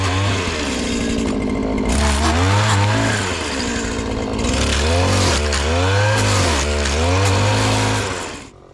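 A string trimmer fitted with a six-wire head revs loudly while trimming into a tight 90-degree corner, its high engine whine rising and dipping repeatedly before cutting off at the end.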